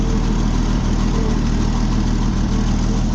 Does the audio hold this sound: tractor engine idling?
yes